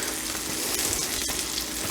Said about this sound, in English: you'll end up steaming your steak more than frying it